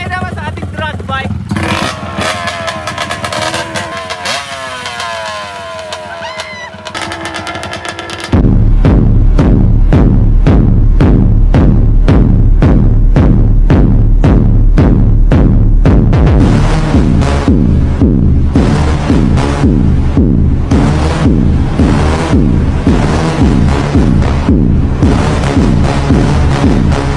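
A drag bike motorcycle engine revs loudly and close, with a rough idle first, then a long run of rapid, evenly spaced throttle blips that keep a hard, steady roar going for most of the run.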